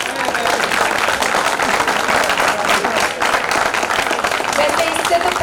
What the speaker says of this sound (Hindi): ये जो मेरे आने पे आपने घनघोर तालियां बजाई हैं।